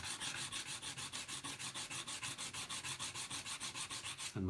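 Quick, regular strokes of sandpaper scraping over the windows of a Matchbox Morgan Plus 8 die-cast model car, close and rhythmic, ending with a brief bump.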